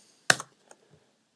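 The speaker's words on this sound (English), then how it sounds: "So I'm going to just type sum," A few quick keystrokes on a computer keyboard: one sharp close click followed by lighter taps, then quiet.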